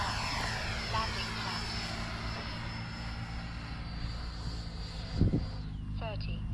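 A Freewing Avanti S radio-controlled jet flies and comes in to land, its steady ducted-fan whine holding throughout with a brief louder swell near the end, while a voice speaks over it.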